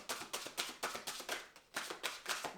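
Tarot cards shuffled by hand, a quick run of about ten crisp riffling bursts in an even rhythm, close and quiet with no talking.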